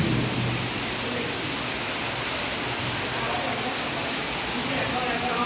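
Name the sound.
rainwater pouring in through a gap in the wall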